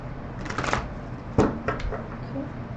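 Tarot cards are shuffled by hand nearby in a few quick papery riffles, with one sharper slap partway through, close and fairly quiet.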